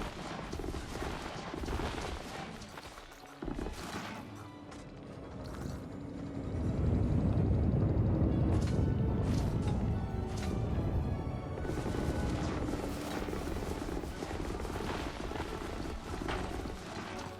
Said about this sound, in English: I could test the what's called that with the Mining Volley